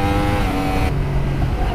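A 2016 Yamaha R1 motorcycle engine hums steadily under light throttle, close and loud, with the pitch dropping partway through as the revs settle.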